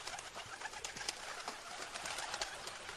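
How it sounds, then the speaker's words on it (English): Pigeons coo softly in a steady, overlapping murmur from a bird sound effect named Birds Flying, with faint rustling throughout and no voices. "that one's called Birds Flying."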